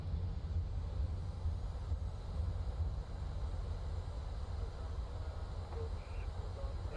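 A PMDG 737-800 in MSFS 2020 rolls along a bumpy runway with a steady low engine roar and rumble, continuous and even throughout.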